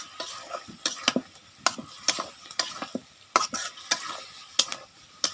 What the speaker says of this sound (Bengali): এখন গোশটাকে আমি ভালোভাবে কষিয়ে নিব।